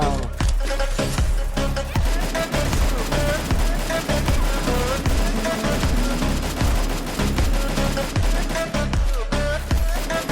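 Rapid, continuous automatic gunfire rattles in a shooter video game, dense bursts hammering loudly and almost without pause.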